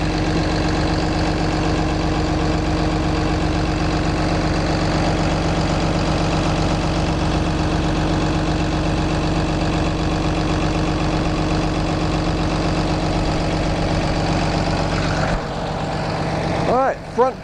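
A 2009 Blue Bird Vision 74-passenger school bus idles close by. Its Cummins ISB 6.7-liter diesel, paired with an Allison 3000 PTS transmission, holds a loud, even drone that changes and thins near the end.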